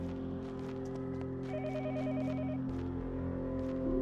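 Electronic telephone ringing in the Yomawari horror video game, a warbling ring tone heard over a steady low ambient drone.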